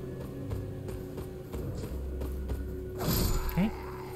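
The horse Torrent gallops in the video game Elden Ring, giving a steady run of evenly spaced hoofbeats, with a rushing swell near the end.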